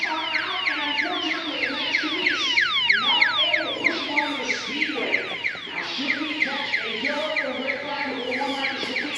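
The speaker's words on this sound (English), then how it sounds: "so I'm assuming she set the alarm" An auto shop's motion alarm sounds indoors, a loud repeating electronic whoop of quick falling sweeps cycling steadily and close, with a voice briefly audible underneath.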